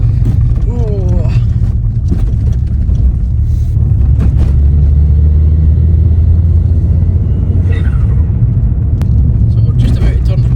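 A car rolls over a potholed road on a Scottish pass, a loud, close cabin rumble with bumps and jolts throughout while people talk over it.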